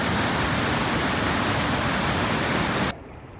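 Yellowstone's Upper Falls, heard from its brink, gives a loud, dense, continuous roar of rushing water that cuts off abruptly near the end.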